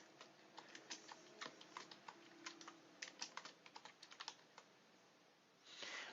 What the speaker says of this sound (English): we should be able to start typing in it